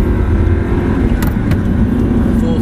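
An Audi R8 engine accelerates in third gear, a loud, close, continuous roar with steady low rumble and a couple of brief sharp transients.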